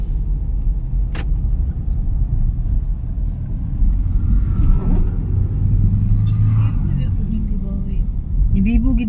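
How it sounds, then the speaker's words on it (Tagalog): Traffic on a highway in Kibawi, a steady broadband road rumble from passing cars heard from inside or beside a moving vehicle, continuous throughout with brief swells as vehicles pass. "So, ito yung highway."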